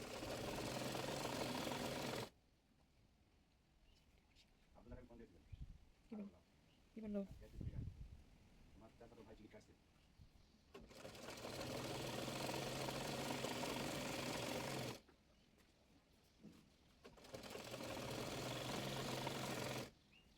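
A sewing machine stitches the folded hem of a salwar leg in three bursts of fast, steady whirring, separated by pauses in which someone talks.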